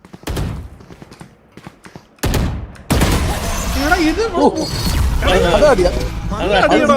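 Bursts of rapid gunfire and sharp shots from a game, then continuous clatter as excited voices talk loudly over the shooting.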